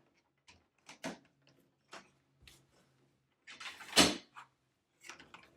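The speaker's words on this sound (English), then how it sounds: "Simply open your cage door." A wire chick brooder cage door being opened during assembly, giving several light clicks and rattles with a louder metallic clatter near the end, close and without talk.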